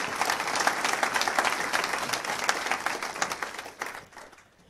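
Applause from an audience at a jazz event rises at once and carries on as dense clapping of moderate strength, then fades out toward the end.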